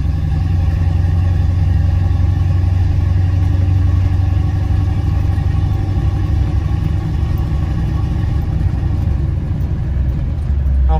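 A Chevrolet K10 squarebody truck engine drones steadily in second gear from inside the cab, with a loud, even low rumble and no talk.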